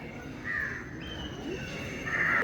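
A crow caws twice, a couple of seconds apart, fairly near, over a low murmur of outdoor background noise at Thiruvananthapuram Zoo, near a tiger enclosure.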